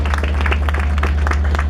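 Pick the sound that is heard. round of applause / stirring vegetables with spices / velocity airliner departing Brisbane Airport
round of applause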